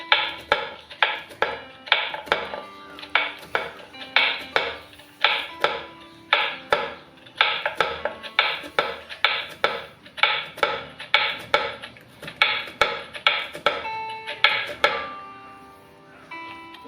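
Knife chopping four bitter gourds on a board in a home kitchen, a steady run of crisp, close taps. The cuts come in quick bursts with short pauses between them, and no one talks.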